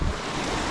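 Sea waves wash onto a stony shore in Almería, heard as a brief, broad rushing surge mixed with wind buffeting the microphone, close and steady with no voices.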